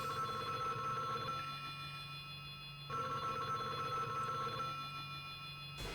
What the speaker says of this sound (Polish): Mike Hagar odbiera telefon